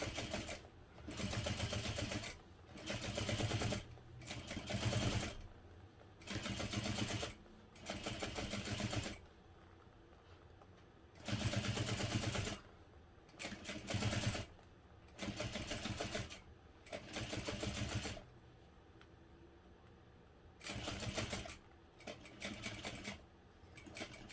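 A sewing machine runs in repeated short bursts while top-stitching a folded seam on a hobo bag, a loud mechanical whirr starting and stopping with brief pauses between runs.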